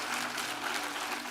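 An audience claps for God in a short, dense, even wash of many hands that stays steady throughout, with no voices over it.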